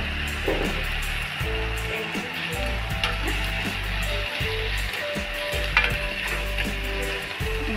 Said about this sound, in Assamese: অকণমান ৰঙচুৱা হোৱালৈকে ভাজি থাকিম